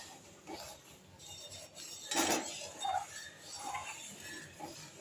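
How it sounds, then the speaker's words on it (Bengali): Boiled milk being stirred into mango in a kadai for a quick mango yogurt, with a spoon clinking and scraping against the pan. There is one louder scrape burst midway, and faint rubbing continues throughout. "ঢেলে দিয়ে এবার ভালো করে এটাকে নাড়বো"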